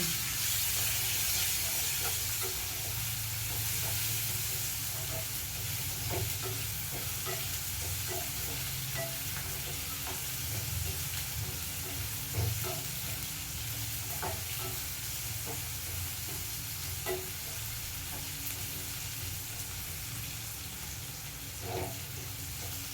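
Onion sautéing in a pan for sambar, a steady soft sizzle and hiss running throughout with occasional scraping stirs, close and alone with no talking.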